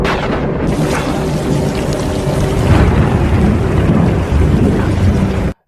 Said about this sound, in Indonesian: Kemudian hujan turun dengan deras